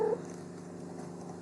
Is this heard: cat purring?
yes